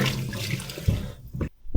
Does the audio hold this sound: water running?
yes